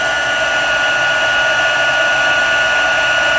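A heat gun blasts hot air over embossing powder on a rubber-stamped card project, a loud, steady whooshing roar held without a break, close up and alone.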